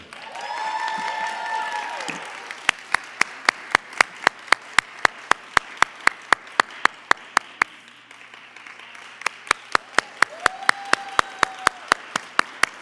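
Applause for the champions at a middle-school district spelling bee finals: crisp, evenly spaced claps ring out in a fast steady rhythm, with a voice speaking at the start and another briefly in the later part.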